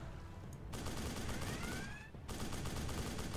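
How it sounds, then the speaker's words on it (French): A machine gun fires in the naval combat game GunFleet, a dense, continuous rattle of rapid shots with a short break before it resumes, loud and close. "la mitrailleuse est pas très très précise"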